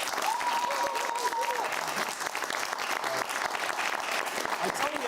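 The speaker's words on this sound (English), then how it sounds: "Big round of applause, please." Studio audience applause at a free speech discussion show, steady dense clapping with a faint whistle early on, holding at an even level throughout.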